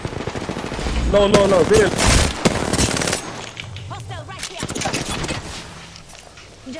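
Rapid bursts of automatic gunfire from a video game boss fight, loud and dense at first, then thinning into scattered shots, with people talking over the shooting throughout.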